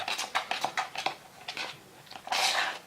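Cake crumbs being mixed with buttercream for cake pops, a series of quick close taps and scrapes of a utensil against a bowl in uneven rhythm, ending in a longer scraping burst.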